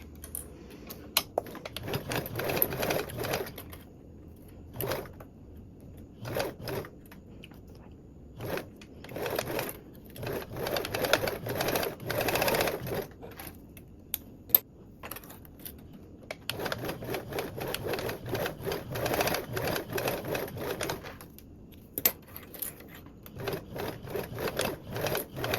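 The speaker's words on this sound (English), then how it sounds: "sew with a 3/8 seam allowance" A sewing machine stitches a 3/8 seam in repeated short bursts of rapid clicking whir separated by quiet gaps, close by and fairly soft.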